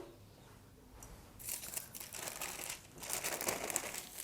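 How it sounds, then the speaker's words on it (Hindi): Crispy fried boondi phulkiyan crunching and crinkling in short, dry bursts that grow denser and louder partway through, close up with no talking. "ये देखें कैसे खस्ता आवाज़ आ रही है इसकी"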